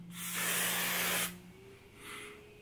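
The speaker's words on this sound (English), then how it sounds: "And I'm gonna go ahead and spray it on me." An Axe Anarchy cologne aerosol gives one long, loud spray hiss lasting about a second, followed after a pause by a shorter, softer burst.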